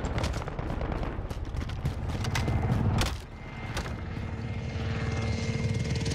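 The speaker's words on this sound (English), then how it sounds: "Enemy support helo in the air." An enemy support helicopter in a first-person shooter game, its rotor thrum mixed with bursts of automatic gunfire and a brief drop in loudness, with no talk over it.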